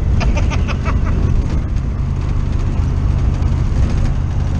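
Project 54, a daily-driven car fitted with race parts, rumbles along with a steady, loud low engine drone and road roar that holds constant throughout without a break.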